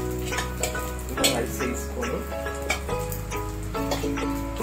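Cooked white rice being stirred into fried onions in a pan, with soft scraping and mixing over a light sizzle, joined by rhythmic clinks of a utensil against the pan.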